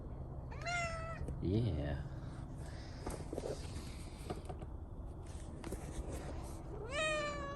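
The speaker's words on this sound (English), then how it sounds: "The neighborhood cat." A neighborhood cat meows close by, with a long rising-falling call near the start and another at the end, while a person speaks softly in between over faint background noise and footsteps.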